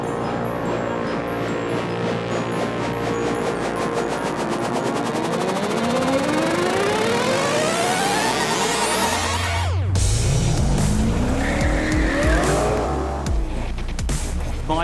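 A Chevrolet Impala and a Holden HR race side by side at the Summernats car festival, engines roaring loudly through rising gear sweeps while tyres squeal near the end, with crowd and track noise around them.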